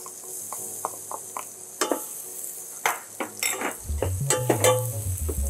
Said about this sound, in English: Then I will add some butter here. Okay. So I'll add some garlic chop here.